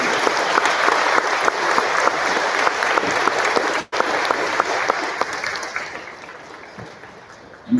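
An audience at a middle school awards ceremony claps steadily and enthusiastically, a dense, continuous applause that stays loud before gradually thinning out and fading near the end.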